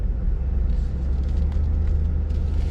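A 2023 Ford F-350 Lariat SuperCab Super Duty with a 7.3L V8 and 10-speed automatic pulls away, its deep engine rumble loud and steady from inside the cab.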